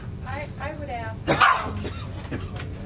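A dog gives a few short barks and yips close by, mixed with some human voices in the room.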